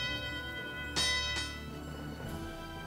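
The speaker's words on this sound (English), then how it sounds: "there's a bell to ring." A bell rung in a castle storage room, two quick bright strikes close together followed by a fainter third tap, each ringing out briefly over a quiet, steady background hum.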